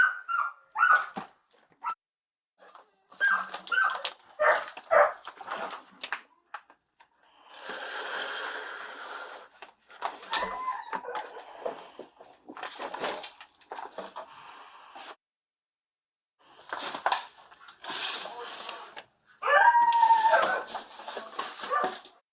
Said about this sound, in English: More dogs. 3 dogs.